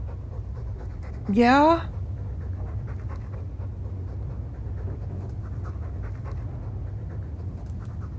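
A Mabari war dog in Dragon Age 2 pants in a steady, close rhythm throughout, with one short rising whine near the start; a voice speaks a single brief word.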